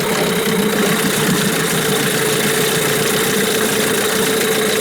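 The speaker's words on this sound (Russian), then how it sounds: "Холостые, соответственно, были выставлены на уровне 900 оборотов." A Hangkai 9.8 outboard motor idles at about 900 rpm while running in a test barrel, giving a loud, close, steady mechanical drone with constant vibration and no change in pace.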